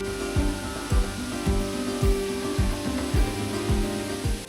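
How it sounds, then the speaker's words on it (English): Constant loud hiss of rain and spray mixed with a droning engine and rhythmic mechanical thumps, continuous throughout. "not only am I getting smashed by rain, I'm getting smashed by the spray"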